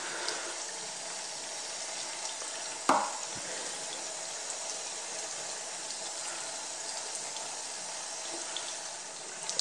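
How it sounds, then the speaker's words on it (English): A bathroom tap runs steadily while makeup brushes are rinsed. The hiss of water is even and close, with one brief knock partway through and no voices. "Just kind of keep rinsing and lathering and rinsing and lathering until"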